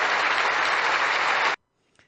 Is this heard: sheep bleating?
no